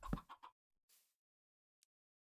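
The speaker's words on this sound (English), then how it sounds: "I don't want to listen to your clucking all the time." Chicken clucking in the Minecraft video game: a quick burst of three short clucks, then a soft rustle and a faint tick in near silence.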